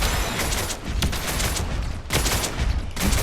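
Rapid bursts of gunfire from the character Wraith in the Predecessor video game, loud and dense with short breaks between volleys, with no talking.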